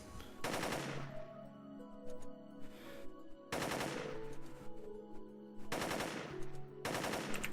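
Automatic gunfire from the mercenary Rosebud in the game Jagged Alliance 2: Urban Chaos, four loud sharp bursts of rapid shots spaced a couple of seconds apart, with echoing tails between them.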